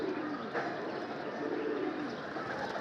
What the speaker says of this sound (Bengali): আরেকটা কবুতর অনেক হাইট নিয়ে আসছিল, অনেক হাইটের থেকে নামলো।